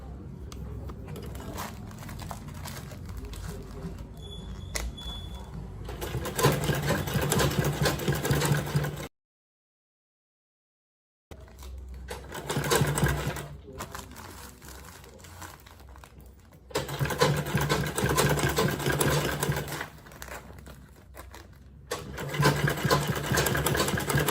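A sewing machine stitches a shoulder bag in several close, steady whirring runs, with fabric rustling between them and a short stretch of silence partway through.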